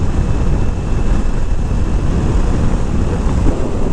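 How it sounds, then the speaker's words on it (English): Constant loud wind buffeting rushes across the microphone while riding a small-displacement motorcycle with no fairing, a steady broadband roar with no pauses throughout. "You are going to get beat up by the wind though, especially on this bike, because there's like no fairing."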